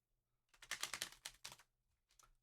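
Magic: The Gathering cards riffled and shuffled close up, a quick run of crisp papery flutters in two bursts, then a brief quieter riffle at the end.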